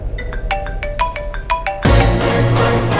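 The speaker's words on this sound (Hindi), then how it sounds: "किसका फोन बज रहा है?" An electronic ringtone plays a quick series of bright, tonal beeps, then a sudden loud rushing noise cuts in and continues.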